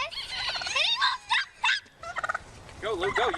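Turkeys chasing a moped, a burst of rapid, warbling gobbles in several quick runs separated by short pauses, fairly close and loud over faint background noise.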